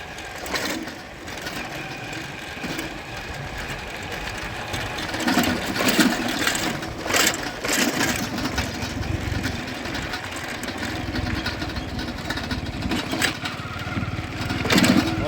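A motorbike engine drones steadily while riding along an unpaved dirt road, with bumps and rattles over continuous wind and road noise and no talk.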